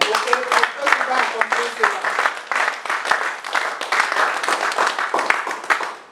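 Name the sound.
congregation applauding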